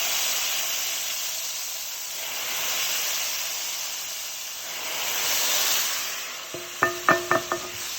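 Hot oil tadka poured into a large fry pan of curry sizzles and hisses in a broad steady wash, ending with a few sharp metallic clinks of a spoon against the pan.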